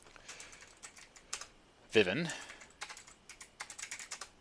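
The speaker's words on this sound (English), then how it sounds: "I am so bad at typing right now." Quick, uneven clatter of keys on a computer keyboard while deck-building in an MTG Arena card game, close and fairly quiet, with a brief burst of speech partway through.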